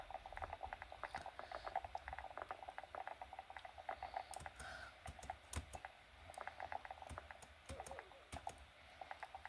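Keyboard keys are tapped for ASMR in a Roblox game, rapid irregular clicky taps in quick clusters, soft and close against a quiet background hiss.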